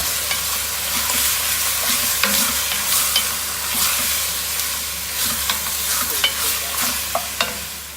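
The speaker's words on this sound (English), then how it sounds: "my gravy beef. I'm starting to get a bit of colour on it." Gravy beef sears in a hot pan for a Beef and Guinness pie, giving a steady close sizzle with small crackles and pops across the whole stretch and no talk over it.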